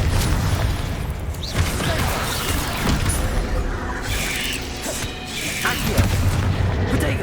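Confringo spell blasts in the Hogwarts Legacy video game, dense booming bursts and crackling impacts layered with combat noise, loud and busy throughout, with voices mixed in.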